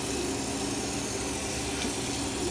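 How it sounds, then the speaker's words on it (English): Steady rush of water pouring to fill a large pot for a seafood boil, a continuous hissing gush at even volume with no voices. "This is what I use to put to fill my pot up with all that water."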